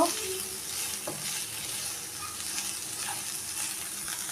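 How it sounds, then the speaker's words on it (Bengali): Spices with cumin paste and chili powder are stir-fried in a pan, giving a soft, steady sizzle with occasional stirring scrapes, fairly quiet and without speech. "এবার একটু নাড়াচাড়া করে ভালো মতো কষিয়ে নেব"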